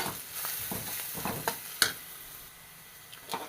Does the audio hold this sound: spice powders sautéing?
yes